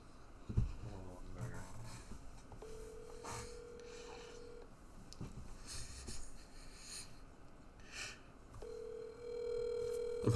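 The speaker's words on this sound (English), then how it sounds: "I'm hoping the stream can hear the phone go off" A phone rings during a tabletop role-playing game session, sounding as two sustained electronic ring bursts a few seconds apart over low background room noise and faint voices.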